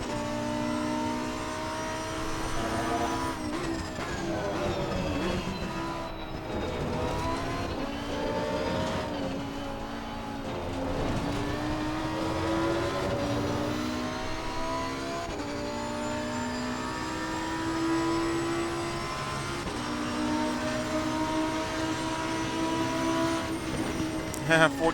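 A Lamborghini Huracan race car engine at Imola in Assetto Corsa Competizione drones loudly throughout, its pitch climbing and falling with gear changes and revving on the lap while someone talks over it.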